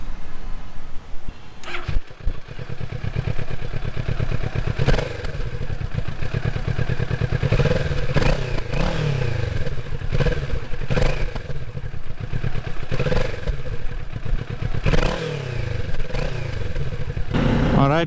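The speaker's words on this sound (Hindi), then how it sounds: "राइड के पहले आपको मैं सुनाने वाला हूँ कि बाइक का साउंड कैसे है।" A Kawasaki Z650 motorcycle engine starts and then idles with a loud, close clatter, broken by several sharp revs throughout.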